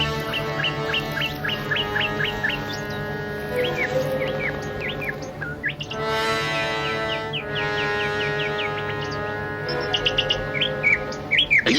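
A cartoon bird chirps and tweets in rapid bursts of bright, repeated calls over a steady musical score in an animated movie.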